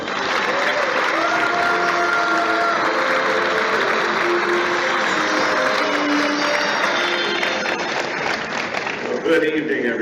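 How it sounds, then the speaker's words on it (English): Sustained applause in the House chamber after Netanyahu's speech, a dense, even roar of clapping from a large audience that holds steady for the whole stretch, with faint voices and tones woven underneath. "it was time for another 10 minutes of applause"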